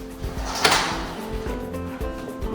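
A heavy back door on a newly built single-story house is pushed open with a wooden scrape and a soft thud, followed by a couple of faint knocks and rattles, heard up close.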